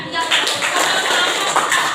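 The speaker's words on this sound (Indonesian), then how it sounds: "Coba tepuk tangan dulu ya" Students in a coding lesson clap hands in a short, dense patter of claps at moderate loudness, with some voices mixed in beneath.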